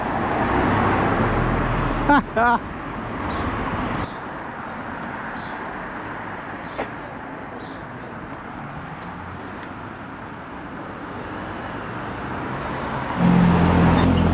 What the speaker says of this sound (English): Apparently traffic is a bit agitated here